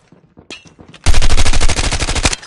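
Automatic machine gun fire in a Call of Duty ranked match: a few faint clicks and footsteps, then a loud, close, sustained burst of rapid shots lasting over a second before it tails off.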